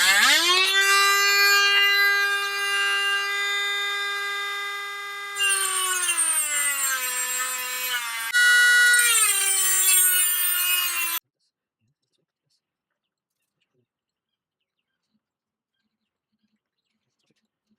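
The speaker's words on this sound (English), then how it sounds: "we used the Dremel to make, you know, to grind down a flat" A Dremel grinds grooves into seized carburetor screws on a 50cc Chinese scooter, a loud, close high-pitched whine that drops in pitch under load in three long passes, then silence.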